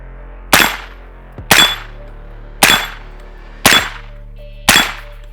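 Five sharp gunshots at a steady, evenly spaced rhythm, each followed by a metallic ring from a struck steel target, loud and close with no talking.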